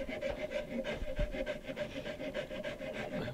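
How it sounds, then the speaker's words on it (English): A bastard file smooths rasp gouges out of a wooden sporter gunstock for a 1903 Springfield rifle, giving steady, rhythmic rasping strokes close up, about a dozen back-and-forth passes. "I've got my bastard file and let's sort of take as many of those gouges out as we can from the rasp."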